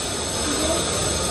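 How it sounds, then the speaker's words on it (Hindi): A Mumbai local fast train to Churchgate pulls into Andheri station, giving a loud, steady rumble and hiss of the carriages and wheels with no break. "तो हमारी लोकल आ गई है चर्च गेट फास्ट ट्रेन"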